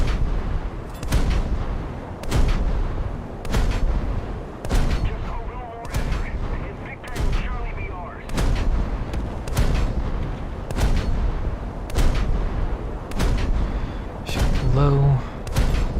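Heavy naval guns firing in a naval combat game with a Japanese coastal ship, booming shots repeating at a steady, roughly one-per-second rhythm while a player talks over the salvos.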